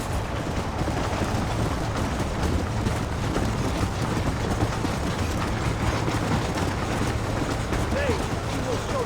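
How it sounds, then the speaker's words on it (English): A train in the Red Dead Redemption video game, a dense continuous rumble and clatter of rolling rail noise held at steady loudness throughout, with game voices faintly mixed in. "There is a train. We must escort it to Casa Madrugada."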